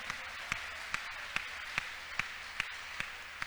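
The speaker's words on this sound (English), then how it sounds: "Let's clap unto God and appreciate Him." Church congregation clapping in slow, steady unison, about two claps per second, each hit sharp and evenly spaced against a quiet room with no talking.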